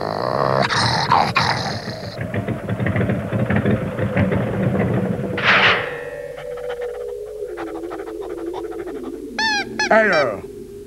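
A dog growls in a French animated robot story, the low rumbling snarl rising and falling over the first half, followed by sharper honk-like squawks and brief chirps near the end.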